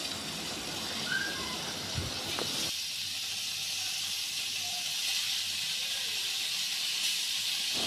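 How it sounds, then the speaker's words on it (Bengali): Paneer pieces dropped into hot white oil in a pan, a steady dense sizzling hiss that flares with a brief pop, then settles into a continuous close frying hiss, no talking. "তার মধ্যে আমরা দিয়ে দেব আমাদের যে কেটে রাখা পনিরগুলো ছিল সেই পনিরগুলোকে"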